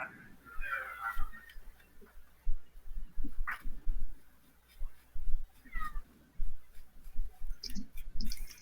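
A cat named Oshi meows several times, soft and somewhat distant, among light clicks and faint room noise.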